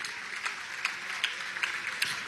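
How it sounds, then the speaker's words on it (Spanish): An audience at a presidential Student Day event in Miraflores gives faint, scattered applause, with a few sharper claps standing out over a low background. "Un aplauso."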